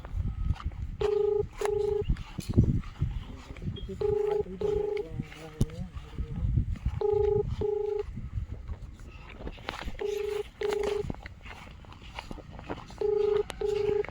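Repeated electronic ringback tones from an unanswered phone call, evenly spaced pairs of beeps recurring over and over, with people talking nearby between and over the rings.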